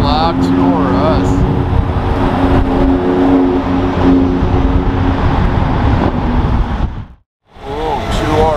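A black Porsche GT2 RS rolls in close by with a loud, rising engine note and revving, with excited voices talking over it before a brief cut near the end.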